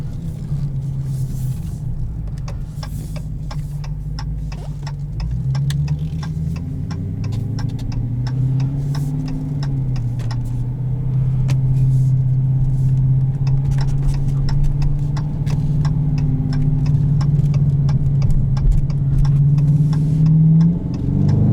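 A 2020 Dodge Challenger R/T Shaker 50th Anniversary muscle car's engine drones steadily while driving, a deep continuous rumble that swells and revs slightly as it accelerates, heard from inside the cabin with no talking.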